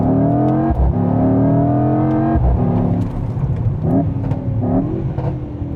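A 2025 Mercedes-AMG GT 63 S E Performance 4-door hybrid accelerates hard, its loud engine climbing through rising gear pulls with two short breaks at the shifts, heard from inside the cabin.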